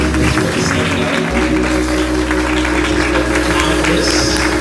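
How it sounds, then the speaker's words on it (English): A church audience applauds a New York State Senate citation honoring a guest, loud continuous clapping from a full crowd that sustains evenly throughout. "Let's give her a round of applause."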